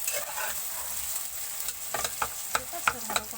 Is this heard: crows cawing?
no